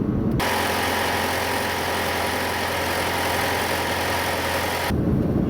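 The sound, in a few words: Alfa Romeo Giulia 2.0 Super engine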